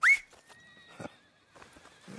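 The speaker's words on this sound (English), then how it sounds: "I'm in the market for a new horse. Something strong and fast." A horse whinnies briefly at the start in Red Dead Redemption 2, at a horse dealer, followed by faint clip-clop and quiet movement sounds.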